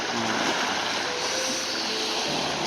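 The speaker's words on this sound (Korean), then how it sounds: "파도가 좋다 어, 적당히 쳐준다 잔잔하지도 않고 막 거세지도 않고" Ocean waves wash onto a beach at moderate strength, neither calm nor rough, a steady broad rushing surf that fills the whole clip without pause, no voices over it.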